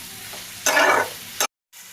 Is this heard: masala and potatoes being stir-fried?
yes